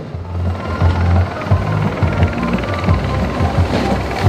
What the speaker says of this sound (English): Coming in fast and low is the Royal Malaysian Navy. This helicopter is now preparing to execute a high-intensity fast-roving operation